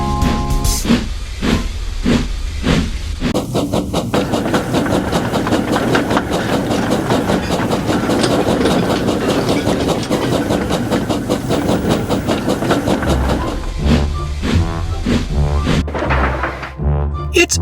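Branch line train hauling coaches, with steady rhythmic rail clatter and hissing steam, loud and continuous, with a few clanks near the end.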